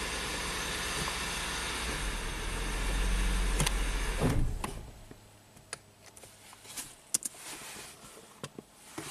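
A car engine stalls out right after being shifted into second gear: a steady low rumble swells, then dies away abruptly, leaving faint ticks and clicks in near silence.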